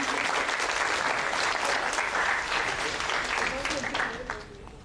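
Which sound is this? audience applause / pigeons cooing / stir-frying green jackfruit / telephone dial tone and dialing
audience applause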